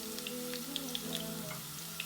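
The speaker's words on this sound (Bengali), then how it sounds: "তো এখন রসুনটা দিয়ে দিচ্ছি আমার তেলের মধ্যে।" Garlic frying in hot oil that has turned reddish, a steady crackling sizzle with scattered sharp pops, close and alone with no talking.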